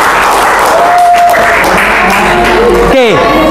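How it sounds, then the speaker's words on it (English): Students in a classroom give applause, a crowded burst of clapping mixed with loud, close chatter and a sharp feedback-like squeal near the end. "give applause for you all"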